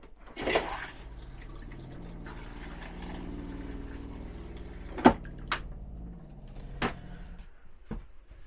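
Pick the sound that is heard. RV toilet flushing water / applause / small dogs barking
RV toilet flushing water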